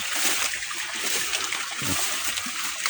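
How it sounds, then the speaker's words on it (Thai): Water trickling and splashing steadily into a small snakehead fish pond on a Thai farm, a continuous close wet patter with no talk. "น้ำเราปล่อย 24 ชั่วโมง นะปล่อยน้ำหยด 24 ชั่วโมง"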